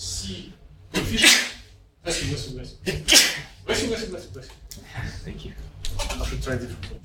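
Sneeze in a chemistry lecture room, one sharp burst among speech from a lecturer, with other short noisy bursts around it.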